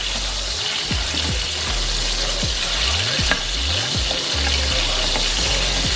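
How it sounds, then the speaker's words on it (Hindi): Garlic and ginger paste frying in a pan for a kofta curry, with a steady broadband sizzle running throughout and several loud stirring scrapes near the mic, no talking. "सबसे पहले हम वो डाल के इसे फ्राई करेंगे तकरीबन 1 से 2 मिनट के लिए"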